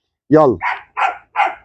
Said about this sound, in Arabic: فاكرين الكلب ده يا جماعه؟